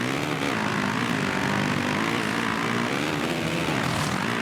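Motocross bike engine in the MXGP2 racing game, a continuous loud buzzing drone with shifting pitch as the throttle eases into a hairpin, with no talk over it.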